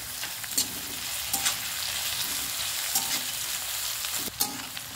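Diced carrots and finely chopped green chillies sizzle steadily in a pan, a constant bright frying hiss with a few sharp crackles and spatter bursts scattered through, close and alone with no voices.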